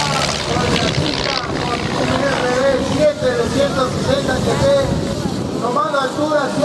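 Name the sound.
propeller aircraft flying past at an air show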